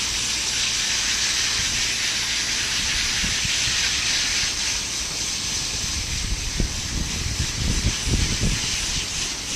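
A pressurized water spray hisses steadily against the coils of an HVAC unit, a loud, continuous rush with slight shifts in texture and a few low thumps near the end.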